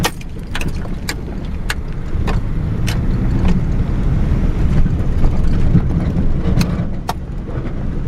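A car rolls along a small dirt road through a rural subdivision with gas wells, a steady close engine-and-tire rumble running throughout with scattered sharp clicks and pops of gravel striking the underside.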